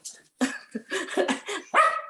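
Dogs barking at home in a rapid, loud, close run of about half a dozen barks and yips, ending with a higher drawn-out bark.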